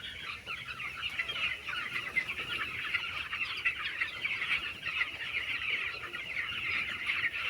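Chickens cluck and call in a steady chatter on a hot midday, with a continuous bright squawking texture throughout and no speech.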